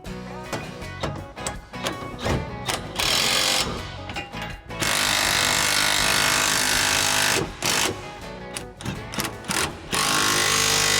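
Power tools and ratchets bolting a new bumper onto a Chevy Silverado 1500 tow vehicle, three bolts per side: loud bursts of whirring impact driving broken by short clicks and pauses, close and alone.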